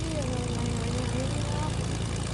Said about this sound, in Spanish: Vale, tenemos una avioneta por allí.